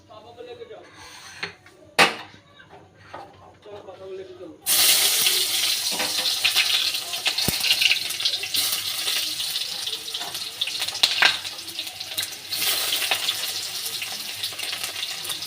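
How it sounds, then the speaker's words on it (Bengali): Onion paste hits a hot wok with bay leaves for chicken kosha, bursting into a loud, steady sizzling hiss partway through after a quieter stretch of faint kitchen clatter. "এবার আমি পেঁয়াজগুলো দিয়ে দেব।"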